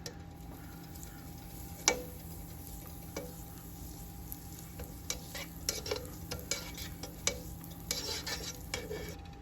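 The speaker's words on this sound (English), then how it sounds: "my pan has heated up. Go ahead and put in the butter." Butter dropped into a heated pan for French toast, with a faint sizzle under scattered metallic clicks and scrapes of a utensil against the pan, close and quiet.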